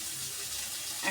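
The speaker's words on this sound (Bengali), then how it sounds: "এখন জল দিয়ে দিব।" Water pours steadily into a cooking pot of lightly stirred, turmeric-spiced food, a continuous rushing splash that lasts throughout and swells briefly at the end, with no voices.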